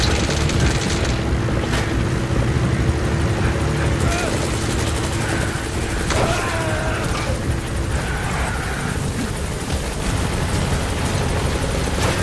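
Support helicopter arriving at a landing zone in Metal Gear Solid V: The Phantom Pain, a steady loud rotor drone with engine whine, underneath game ambience and a radio voice.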